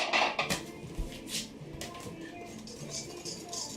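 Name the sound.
mixing ingredients in a bowl with a regular whisk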